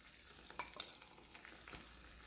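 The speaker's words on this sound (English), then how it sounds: "Add it in 2 parts and keep sauteing, keep mixing the leaves again." Roselle (gongura) leaves sautéed in oil with ground masala for a spicy pickle, a faint, soft sizzle with a few light clicks of the spoon against the pan, quiet and without speech.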